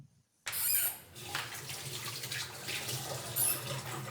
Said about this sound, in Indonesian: kita lakukan cuci tangan